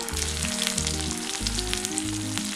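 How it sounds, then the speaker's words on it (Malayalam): Chicken frying in hot oil for Kerala-style Payyoli chicken fry makes a dense, continuous sizzle and crackle, close and even in level, with background music playing underneath. "ഇതുപോലെ എല്ലാ ചിക്കനും ഒന്ന് വറുത്തെടുക്കാം."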